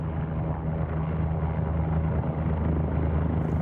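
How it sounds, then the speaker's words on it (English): An OH-58 Kiowa helicopter in the X-Plane flight simulator gives off a steady, continuous rotor and turbine drone, even and unbroken, with no talking. "I already slowed the helicopter down."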